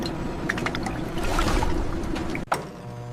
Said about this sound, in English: A spectacular waterfall of milk chocolate completely covers each bar, creating its iconic shell.